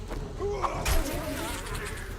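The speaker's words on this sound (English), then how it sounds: "I'm gonna treat fighting these bees the same way I treat fighting zombies." Bees buzzing in the 7 Days to Die video game, a steady insect drone with wavering pitch that persists throughout over a low rumble, with a brief louder burst near the middle.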